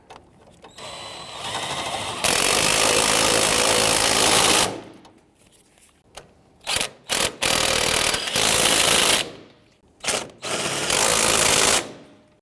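Power tool driving the two lower shock bolts on a 2007-2014 Cadillac Escalade front strut assembly, loud bursts of buzzing, rattling mechanical noise with short pauses between runs.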